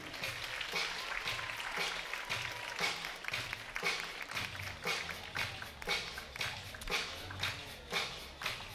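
Audience applause for a show jumping rider after a jump-off at an élite CSO final, a steady wash of distant clapping under percussive taps and hoofbeat-like thumps.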